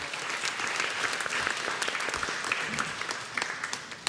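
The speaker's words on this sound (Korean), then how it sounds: "수고한 청소년부 우리 정기자와 선생님들에게 박수하겠습니다." A church congregation at a Sunday service applauds the youth department staff and teachers with a sustained, even roar of many hands clapping from start to finish.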